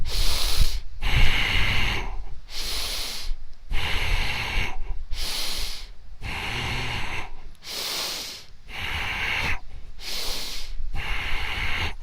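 Deep, heavy breaths during a senior fitness breathing exercise, roughly eight slow in-and-out cycles in a steady rhythm, loud and close with no speech over them.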